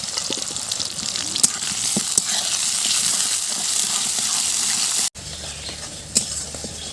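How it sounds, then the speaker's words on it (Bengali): Chopped onion and tomato with whole spices fry in a pan for a spicy village-style chicken curry, giving a steady loud sizzle with occasional stirring clinks, a brief cut, then quieter sizzling. "এবার পেঁয়াজ আর টমেটোটাকে একটু ভাজা ভাজা করে নেব।"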